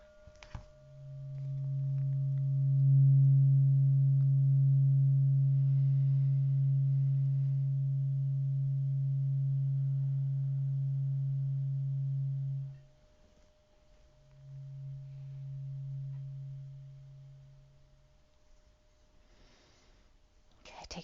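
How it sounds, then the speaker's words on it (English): An Om tuning fork struck and held, giving a steady low hum that sustains for about twelve seconds, fades, then sounds again more briefly, with faint breathing in the background and no speech. "I'm going to hit my Om tuner for you here if you want to hear some Om"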